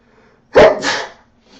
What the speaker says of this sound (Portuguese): me perdoe, amigos, mas eu precisava desse espirro